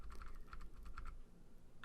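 Cursor keys on a computer keyboard tapped in quick light clicks, a short run of presses then a pause and one more, faint and close with no talking.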